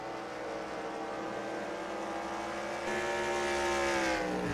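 Race car engines in the eNASCAR Heat video game at Las Vegas, a continuous high-pitched whine of engines that swells and grows louder partway through, then holds steady, with no talk.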